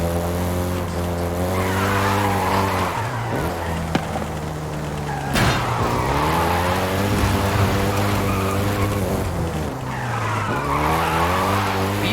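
A Volkswagen Golf GTI drives in Forza Horizon 5, its engine holding a steady loud note that climbs and drops through several revving swells and shifts, with tire noise in the mix.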